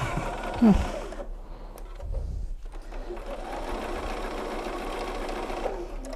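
Sewing machine running steadily while stitching a half square triangle quilt block seam: a brief start, a pause, then a continuous close whirring drone, with faint talk at the beginning.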